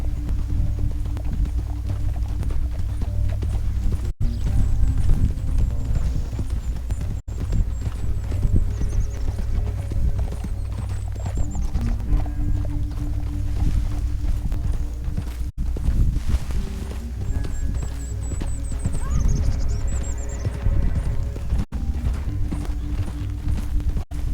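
Rapid clip-clop of several galloping horses in the video game Red Dead Redemption 2, loud and continuous, with occasional whinnies over a rumbling background.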